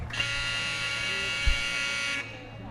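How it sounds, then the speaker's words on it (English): A loud, flat electronic buzzer blares for about two seconds at a girls' high school water polo game, then cuts off sharply, leaving a faint hum of the room. "that's the buzzer for the teams to line up."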